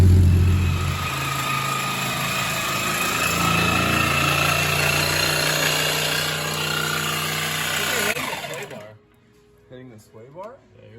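A 730 whp turbocharged Toyota Supra engine from Sideways Performance runs as a steady, loud, humming drone for about eight seconds, then cuts off into near quiet, with voices heard around it.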